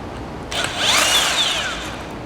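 A 3/4 inch impact wrench runs a 1/2 inch by 13 nut onto a switch bracket during mechanical assembly. One continuous whirring burst, close and fairly loud, rises and falls in pitch for about two seconds.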